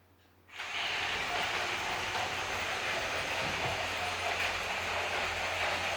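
A toy locomotive starts up and runs on its track, a steady close whirring hiss with faint rattling that continues evenly after a sudden switch-on, with no talking.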